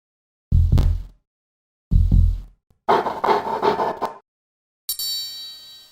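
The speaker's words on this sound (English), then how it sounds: "Veterinarians use stethoscopes to listen to sounds from inside an animal's body. A heartbeat, for instance, or the sound in an animal's lungs." Animal heartbeat and lung sounds heard through a veterinarian's stethoscope in a children's animal-doctor video game: two separate low, muffled thumping bursts, then a stretch of soft, rasping breath-like noise, ending on a brief bright electronic tone.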